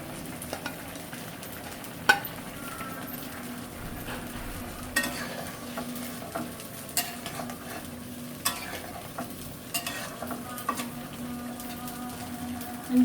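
Cumin seeds fry in a pan with bay leaves, giving a continuous soft sizzle with scattered scrapes and taps of a stirring utensil against the pan, close and steady, with no talking.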